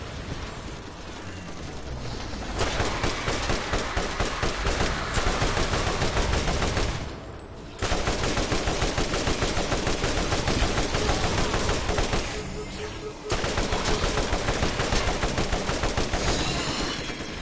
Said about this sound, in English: surely the Guardian lasers they're firing at me are not bullets.